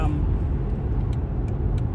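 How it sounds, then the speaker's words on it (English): A car rumbles through city traffic, a steady low engine and road drone that sits under a voice for a couple of seconds. "Now I'm dodging through traffic, trying to get back home so I can relax"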